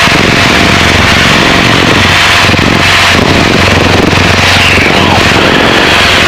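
A Piper Cherokee light aircraft's engine and propeller drone loud and steady at about 2600 RPM cruise during a test flight, a constant close cabin roar with no breaks.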